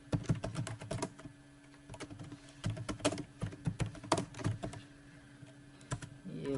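Rapid, uneven keystrokes on a computer keyboard as C++ code is entered, close and fairly loud, with bursts of clicks and brief pauses between runs, and no talking.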